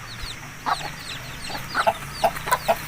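Aseel chickens in a pen with coops and wire mesh, giving repeated short clucks at an uneven rhythm, close and fairly loud.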